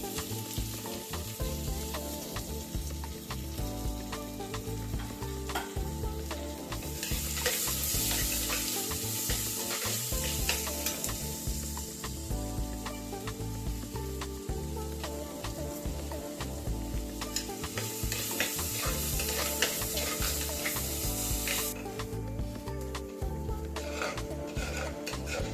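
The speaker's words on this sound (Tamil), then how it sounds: "2 பெரிய வெங்காயமும் கொஞ்சம் கருவேப்பிலையும் போட்டு கொஞ்சம் உப்பு போட்டு வதக்கி நல்லா கோல்டன் ப்ரௌன் ஆகிற வரைக்கும் வதக்கி விட்டுக்கோங்க" Sliced big onions, curry leaves and salt sautéing in a pan for a village-style fish curry, a continuous close sizzle and crackle with intermittent stirring and spoon scrapes, no voices.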